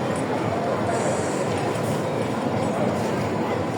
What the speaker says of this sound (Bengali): আর যে ট্রেন ঢুকতেছে